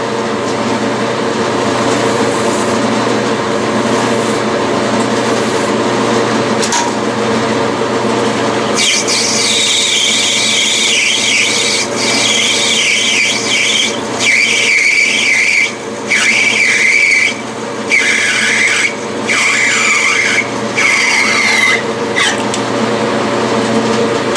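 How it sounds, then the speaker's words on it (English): A metal lathe turns free-machining brass, a steady mechanical whir and rumble joined midway by a rising, squealing cutting tone that comes and goes in short passes, close and fairly loud, with no talking. "That brass cuts real nice. That is very free machining brass."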